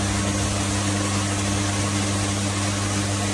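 A motor turns the feeding turntable of an automatic micro water pump assembly machine, giving a loud, steady mechanical hum with a constant low drone.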